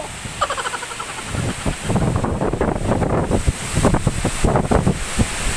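Strong typhoon winds from Ulysses batter the microphone in a constant roaring rush with gusty swells, and faint voices mingle in the background.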